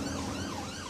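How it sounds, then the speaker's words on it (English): Siren of a London ambulance wailing loud and close in a brief, continuous tonal sweep with no talk over it. "I do like that siren."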